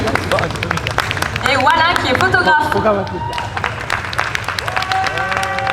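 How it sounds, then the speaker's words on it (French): Audience applause for guests at a French video game event, a continuous patter of clapping from a crowd with some hubbub, heard under a host speaking into a microphone. "On peut les applaudir."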